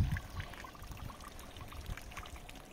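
Water drains and pours from garden tap valves in a soft, continuous trickle, close and quiet.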